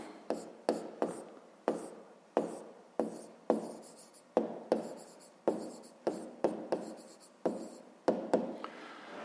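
A pen or marker writes numbers on a board during a fifth-grade math exercise, in sharp scratchy strokes, each starting with a tap and then trailing off. The strokes come steadily and close, with no voices.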